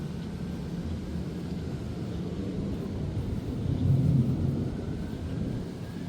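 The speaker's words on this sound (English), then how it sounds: "I can hear the planes in the distance quite loud" Air show planes rumble in the distance over a cemetery in Toronto, a low, continuous drone that swells to a louder peak midway and then eases off.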